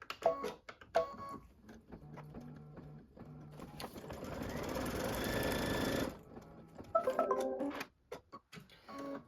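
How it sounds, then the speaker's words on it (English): Scattered clicks and handling taps surround one sustained two-second burst of a sewing machine stitching a trimming placement line on a pieced quilting project, close and clear. "step number 28 tells you to stitch the trimming placement line again"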